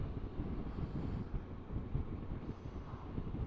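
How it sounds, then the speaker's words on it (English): Wind blowing across the open top of Clee Hill, a steady low rumbling buffet against the microphone that stays constant and fairly loud with no voices. "I can feel it is a little bit more windy up here"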